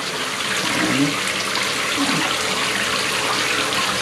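Tap water runs steadily into a basin to fill a bath for dogs, a continuous broadband rush with no pauses, heard alone throughout.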